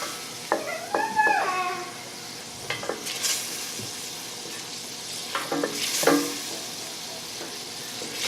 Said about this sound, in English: We're going to give this a little help and stir it up to make sure that we can get this evenly distributed around the pot so it cooks faster.